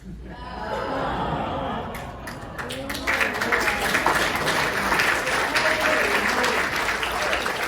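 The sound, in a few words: audience applause at a conference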